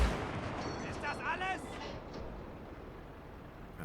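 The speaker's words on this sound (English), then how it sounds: "So that is my plan here with this massive artillery piece." Massive artillery piece firing in Gates of Hell Ostfront: a loud booming blast at the start with a rumbling tail, layered over ongoing battlefield noise and distant crackling.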